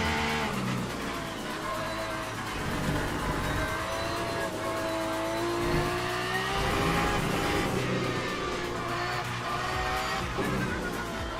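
A McLaren race car in the Le Mans Ultimate racing game drives on with a steady, loud engine drone that rises and falls in pitch through the shifts, with touches of tire noise and other cars close around it, and no talk.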